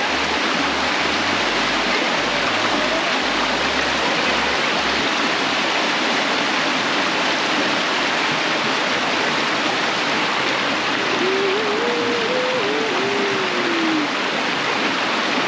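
A small garden waterfall feeding a little river-like stream near Lake Mountain Alpine Resort, Victoria, Australia, gives a steady, unbroken rush of falling and flowing water throughout, with no voices over it.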